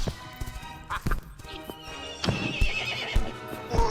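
A cartoon horse from The Thief and the Cobbler whinnies loudly amid clip-clopping hooves and crashing cartoon effects, with music running under the scene.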